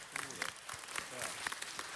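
Applause from a city council meeting audience greeting the Consul General of Angola, a dense steady patter of many hands clapping at moderate distance, with a voice speaking over it.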